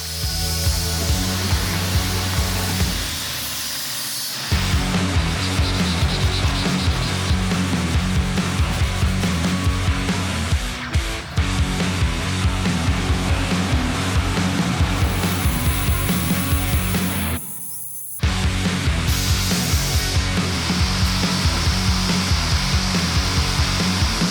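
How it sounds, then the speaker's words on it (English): Heavy grinding of a Damascus scimitar blade forged from rusty saw blades, a loud continuous abrasive grinder whine and rasp with a short pause early and another near the end, no talk. "After finishing the spine, it's back to hours of heavy grinding to bring the blade closer to its final"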